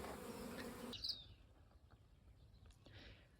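Honeybees buzz around a hive, a faint dense hum that drops off abruptly after the first second, leaving only sparse distant buzzing and a few soft outdoor sounds.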